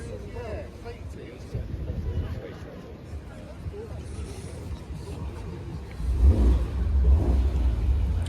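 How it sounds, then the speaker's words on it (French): Ferrari 512 starting up at a car show: a low engine rumble builds and swells near the end, partly masked by nearby chatter and crowd noise. "Je pense que c'est la Ferrari qui démarre."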